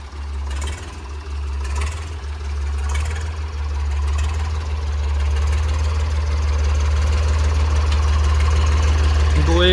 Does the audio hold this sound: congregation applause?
no